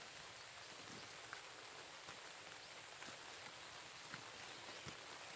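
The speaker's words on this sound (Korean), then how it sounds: "비가 와서" Steady rain falls outdoors over a stony field of kimchi cabbage and radish, with someone holding an umbrella. The wash of drops is constant and even, with a few slightly louder taps, and no one speaks.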